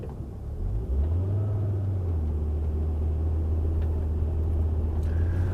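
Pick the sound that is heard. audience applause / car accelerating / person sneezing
car accelerating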